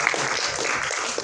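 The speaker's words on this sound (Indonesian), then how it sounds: "Mungkin boleh tepuk tangan sekali lagi teman-teman untuk pembicara kita pada hari ini" Steady applause from a seminar audience clapping for the day's speakers, a dense even wash of many hands that carries on unbroken for a little over a second.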